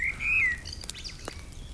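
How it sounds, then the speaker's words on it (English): A single bright bird chirp stands out early, followed by faint scattered calls against quiet outdoor evening background noise. "You can hear the birds are singing"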